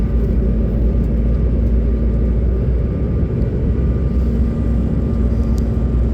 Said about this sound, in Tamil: நியூயார்க் சிட்டியில் இப்போ போய் ஃப்ளைட் வந்து லேண்ட் ஆக போகுது